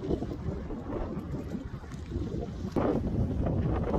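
Steady wind buffets the microphone outdoors in Galesburg, Illinois, with a low, rumbling roar that gusts louder toward the end, no voices.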